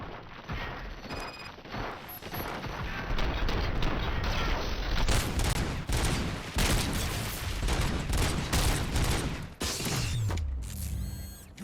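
Sustained automatic gunfire and mechanical clatter from a combat scene in the video game RoboCop: Rogue City on PS5, loud and dense for most of the stretch, ending with a few separate heavy shots.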